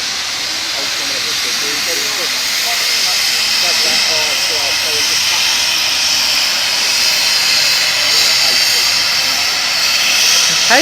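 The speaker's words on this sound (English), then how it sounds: "That of course was the safety valves on Hasty blowing off." Safety valves on a historic steam canal boat blow off in a loud, sustained roaring hiss that swells and holds steady, with people talking faintly underneath.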